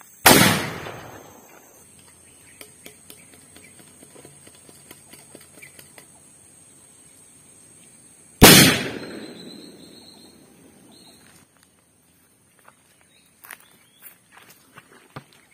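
Homemade bamboo-style cannon fired twice, each a loud close boom with a long fading tail about eight seconds apart, with light footsteps and small clatter in the quiet between shots.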